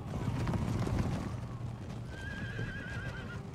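Cavalry horses in the video game Empire Total War whinny and clatter during a battle, with hooves and a trailing neigh over busy battlefield noise, moderately loud with no speech.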